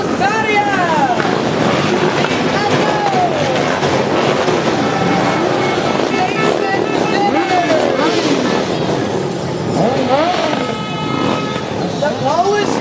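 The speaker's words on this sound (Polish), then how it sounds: "You are witnessing over 100 motorcycles from Husaria." More than a hundred motorcycles from a Polish motorcycle club rolling past in the Pulaski Parade, engines revving and swelling in overlapping rising and falling whines, loud and close, with a busy crowd background.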